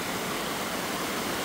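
A swollen river in El Salvador, flooded by heavy mountain rains, rushes in a dense, continuous roar of water that stays loud and steady throughout, with no voices.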